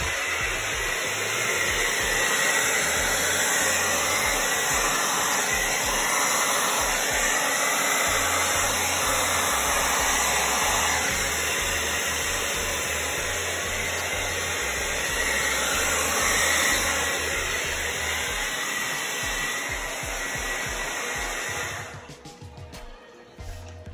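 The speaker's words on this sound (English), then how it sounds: "So this is high fan, cool temperature on the blow dryer." A blow dryer roars steadily at high fan speed on cool temperature, drying paint, loud and close with a constant airy whoosh, then cuts off abruptly near the end.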